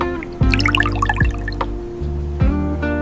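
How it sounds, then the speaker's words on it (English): Scented soy wax poured into candle containers at a candle factory, liquid filling in a few short pours with bright dripping and trickling splashes, close and clear, with brief pauses between. "We pour the scented soy wax at a controlled 135 degrees."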